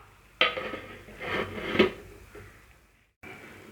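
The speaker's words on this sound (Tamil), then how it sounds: "மூடி போட்டு கேஸை சிம்மில் வச்சுடுவோம்." Metal lid set onto a cooking pot of soya chunk gravy on a gas stove, a few soft clinks and scrapes of metal, faint and close, with no talk.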